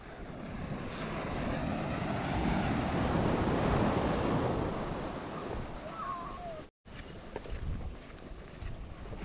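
Choppy sea waves wash steadily onto the shore at Calaguas Islands in a broad, continuous surf roar, buffeted by wind noise, with a brief dropout near the end.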